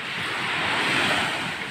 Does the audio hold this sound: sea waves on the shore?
yes